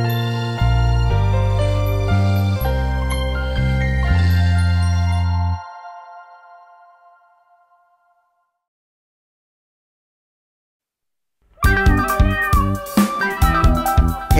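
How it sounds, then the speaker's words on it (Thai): Three little kittens meowing in a children's nursery song, a run of tuneful, evenly stepped meows over music, then a brief silence before more meowing and music return. "เธอได้ยินเสียงลูกแมวน้อย3ตัวไหม"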